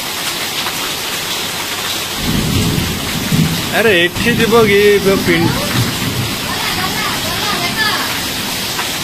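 Heavy monsoon rain pours steadily onto surfaces and soaks everything, with a rumble of thunder partway through and a voice speaking briefly over the downpour.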